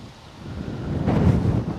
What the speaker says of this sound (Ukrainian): Фух, який вітер задуває.